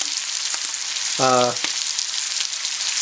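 Bacon sizzles and spits steadily in a pan, a constant close hiss with a brief tonal beep partway through.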